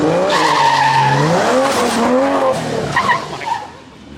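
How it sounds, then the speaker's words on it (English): A Barra-engined GT350 does a burnout, its tires skidding and squealing loudly and continuously while the engine roars underneath, the squeal wavering in pitch before easing off near the end. "I'm gonna try to do a burnout in a straight line now"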